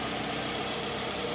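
A 2004 Toyota RAV4 engine idles with a new thermostat fitted, giving a steady, even drone with no variation.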